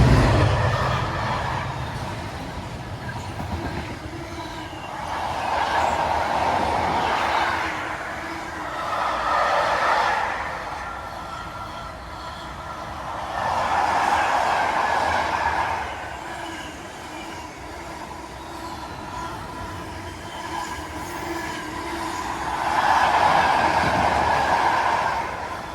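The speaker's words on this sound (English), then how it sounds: "GBRF 6600 car train." A GBRF Class 66 diesel locomotive hauls a car-carrying freight train past a station, with a steady rail roar swelling and easing in repeated waves as wagons roll by, no voices heard.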